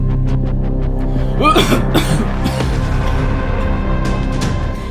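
Coughing from smoke in a voiced audio drama: a run of harsh, close coughs and throat-clearing bursts, loud and alone with no talk over them.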